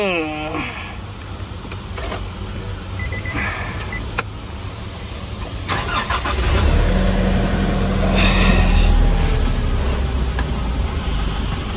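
A Nissan Navara pickup with KOA4x4 makeover work starts up, a low engine rumble swelling midway and settling into a steady idle, with people talking nearby.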